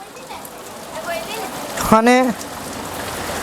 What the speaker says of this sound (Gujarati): વરસાદ બી ચાલુ છે